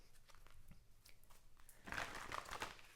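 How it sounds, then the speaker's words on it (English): A deck of pick-a-card reading cards being shuffled, giving soft crinkly riffling and papery rustles that start faint and grow louder and denser in the final second, with no voice over it. "as I'm shuffling this deck"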